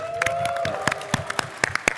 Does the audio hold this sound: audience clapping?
yes